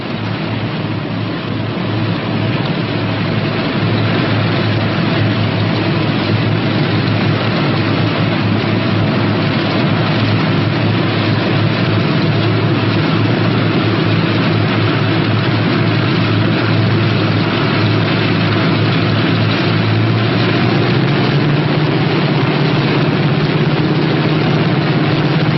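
The engines of a P-61 Black Widow aircraft drone steadily while taxiing to the runway, a loud, continuous low rumble that shifts slightly in pitch late on.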